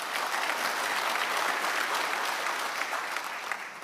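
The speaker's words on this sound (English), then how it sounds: "Round of applause for them," Steady applause from an audience at an annual vitamins and minerals industry conference, dense and even for about four seconds before tapering slightly at the end, with no speech over it.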